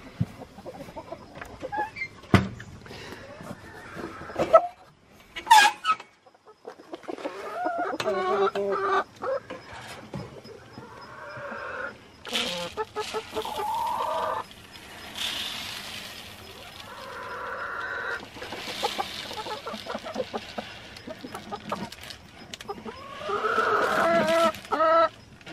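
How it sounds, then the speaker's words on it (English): Backyard hens clucking and murmuring while feed is scattered during a morning walk around a garden, with scattered sharp rattles and knocks, and clucking that rises and falls close by before someone speaks quietly near the end. "here's this hen right in here"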